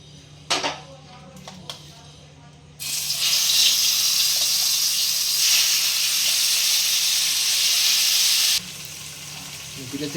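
Vegetable paste of tomato hits hot oil while veg momos are being cooked at home, bursting into a loud, steady sizzle that runs for several seconds and then cuts off, after a few light kitchen clinks.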